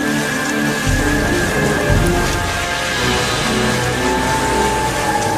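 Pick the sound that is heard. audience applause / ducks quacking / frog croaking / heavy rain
heavy rain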